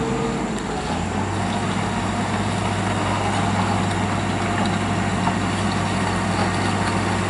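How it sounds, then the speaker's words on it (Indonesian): Heavy diesel machinery idling and rumbling steadily at a road construction site, a motor grader leveling filled ground, with a constant low drone and a deepening engine tone after the first second. "diratakan menggunakan motor grader ini"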